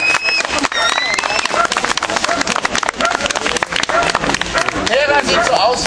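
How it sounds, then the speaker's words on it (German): An audience applauds at a live show featuring an American bald eagle, a dense stream of clapping with a few cheers, while a presenter's voice carries over the crowd. "Begrüßt ihr euch mit einem dicken Applaus."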